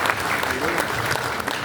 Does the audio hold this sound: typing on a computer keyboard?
no